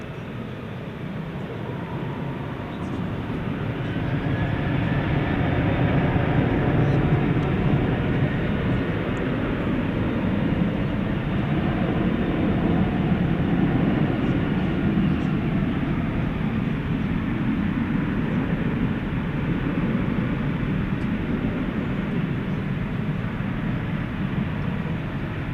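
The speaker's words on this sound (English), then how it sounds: "Headed out to Austin, flight 972, a 737-800." A Boeing 737-800 jet airliner on flight 972 to Austin departs DFW Airport at night, its engines building into a loud, broad, continuous roar that holds steady for over twenty seconds.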